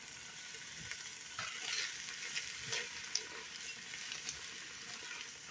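Carrots seasoned with Creole seasoning fry in a pan for garden cabbage soup, giving a steady close sizzle and hiss with occasional stirring scrapes throughout.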